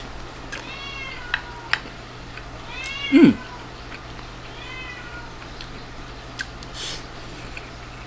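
A cat meows several times at close range, the meows spaced irregularly across the stretch over a faint background hum, with a brief low human vocal sound in the middle.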